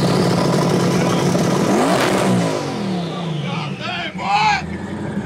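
A twin turbo Dodge Demon engine roars loudly with the gas pedal floored, the rev rising to a peak and then falling away, followed by a couple of sharp revving blips close by.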